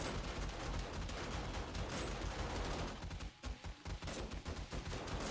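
Rapid video game gunfire rattles on in a loud, dense stream of overlapping shots, dipping briefly into choppier bursts before resuming at full intensity.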